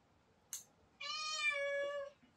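A house cat gives one clear drawn-out meow after a brief soft noise, close and fairly quiet against a still room.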